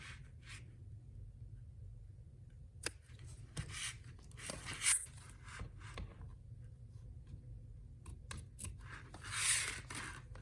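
Scissors snip through machine-embroidery material on a clear stadium bag project, a few faint, sparse cuts and rubbing sounds in a quiet room.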